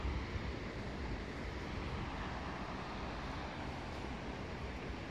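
River water running high and creeping over a concrete wall makes a steady, broad rushing wash with a low rumble. It sounds close and constant throughout, with no voices.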